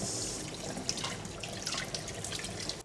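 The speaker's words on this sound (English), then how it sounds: "Just strain this and run it under the cold water tap." Cold water runs from a kitchen tap over soaked glass noodles in a strainer, a continuous close splashing stream with small spattering bursts. No talking.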